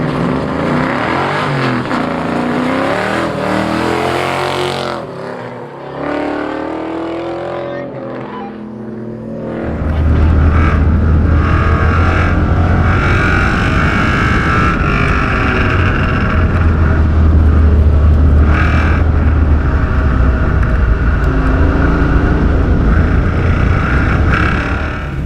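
Car on a fast autocross run, engine droning loud and steady after the first ten seconds, with someone talking over it early on and a drift through a turn.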